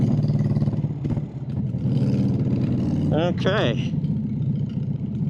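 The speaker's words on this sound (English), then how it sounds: "That exhaust sounds amazing." A 2000 Harley-Davidson Sportster Bobber's exhaust drones low and steady while being ridden, close and continuous beneath a rider speaking briefly.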